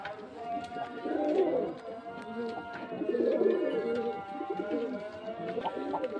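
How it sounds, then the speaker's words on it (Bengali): Tumbler pigeons, a male and female pair, coo in soft, low, throaty pulses that swell and fade at close range, with murmuring voices underneath. "খুব সুন্দর পায়রা দেখতে পাচ্ছেন পায়রা"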